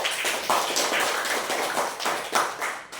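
Dense, steady applause from an audience at a talk, many hands clapping together in a loud, continuous wash that swells and dips slightly, with no voices over it.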